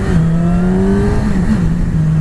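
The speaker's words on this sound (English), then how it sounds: "You can really get the downshifts right with this thing." A 2020 Yamaha R6 sport motorcycle engine downshifting on the move: a loud, close, continuous engine drone whose pitch steps and slides between gears, with wind rush behind it and no speech.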